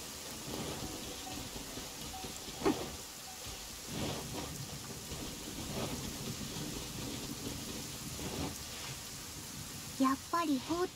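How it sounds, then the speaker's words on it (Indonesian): Steady rain in the video game Genshin Impact, a continuous wash of falling water with a few brief louder bumps and game sounds, running throughout the clip without speech. "Hujan lagi."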